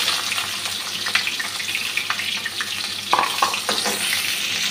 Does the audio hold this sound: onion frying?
yes